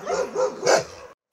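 A dog barking at an animal shelter in Zaporizhzhia, three quick close yaps in a short burst, the last one loudest, with nothing else heard.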